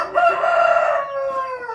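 A single loud rooster crow rings out close by, a drawn-out call that rises then trails off.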